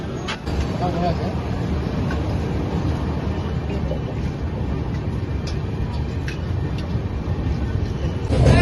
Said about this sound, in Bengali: ট্রেনটা আস্তে আস্তে ঢুকছে দুর্গাপুর স্টেশনের দিকে।